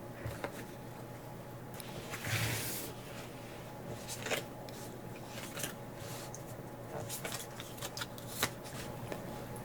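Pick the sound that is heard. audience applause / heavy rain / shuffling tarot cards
shuffling tarot cards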